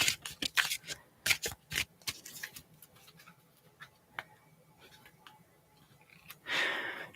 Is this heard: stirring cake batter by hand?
no